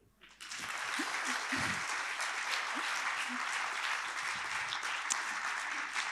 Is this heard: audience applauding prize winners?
yes